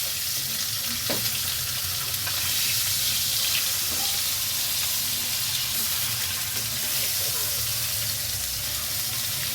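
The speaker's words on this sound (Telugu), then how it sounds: "ఫిష్ టూ సైడ్స్ ఫ్రై చేయాలి" Fish fries in a pan, Kerala banana-leaf style, with a loud, dense, continuous sizzle that stays steady throughout.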